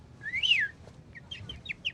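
A single whistled, rising-and-falling bird call rings out clearly near the start, then several faint, short chirps follow over a low rumbling background.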